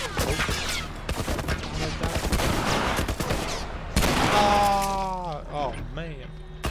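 Gunfire in The Last of Us gameplay: a dense run of sharp shots and bursts through the first four seconds, close and loud, with layered game sounds and a voice-like tonal passage near the end.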